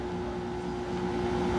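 A three-phase motor, converted from single phase with a capacitor, hums on steadily with a fixed tonal whine as its contactor opens, the loud motor drone not yet clearly fading over this short stretch.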